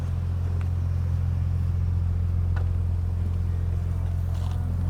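A Ferrari California hums along at a steady, low rumble, heard from inside the car as it is driven, with faint scattered clicks and no speech over the engine drone.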